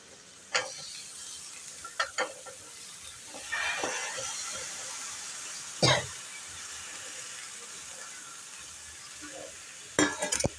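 Raw banana and beetroot stirred into frying masala in a pan for a Kerala curry: a soft steady sizzle with sharp scraping clinks of the spoon at intervals, close and fairly quiet, no talking.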